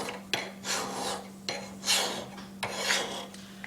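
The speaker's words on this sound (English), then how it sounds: "I'm just going to finish the blade by using a file" A hand file rasps along a steel knife blade in steady back-and-forth strokes, about five or six gritty scraping passes with sharp edges at each stroke start, close and clear over a faint steady hum.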